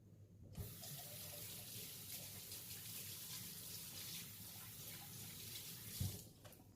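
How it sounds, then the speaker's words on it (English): Hands are rinsed under a running kitchen tap, a steady close splash of water starting abruptly and stopping near the end, with a brief clunk from the faucet. "Let me go ahead and rinse my hands off."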